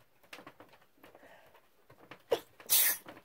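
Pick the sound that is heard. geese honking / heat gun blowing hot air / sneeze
sneeze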